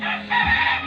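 A gamecock crows once at a cockfight, loud and close, in a brief strained call.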